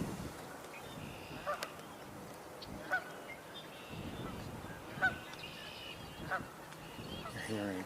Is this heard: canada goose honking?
yes